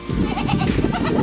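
A female goat in heat bleats repeatedly at close range, loud nasal calls running one into the next with no other sounds over them.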